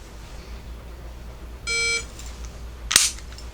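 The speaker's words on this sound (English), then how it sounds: "We'll just run the timer." A shooting shot timer gives one short electronic beep, followed about a second later by a single sharp gunshot crack, both close and clear over faint room noise.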